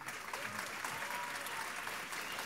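Audience applause rings out for musicians at a music festival concert, a thick, continuous wash of clapping heard from within the crowd, fairly soft overall, with a voice faintly present beneath it.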